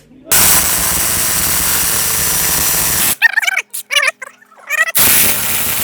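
A Profitec 2100 Nm cordless impact wrench with a 32 mm socket hammers loudly and continuously at a nut it cannot loosen, in two long bursts separated by brief talk from a man nearby.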